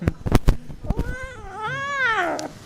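A cat being bathed lets out a long, drawn-out, rising and falling meow after a few sharp clattering knocks, loud and close by.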